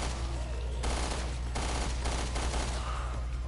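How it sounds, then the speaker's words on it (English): Rapid machine gun fire in Resident Evil: Revelations 2 raid mode, several loud automatic bursts over a steady game background with no voices. "machine guns are totally... pretty good here"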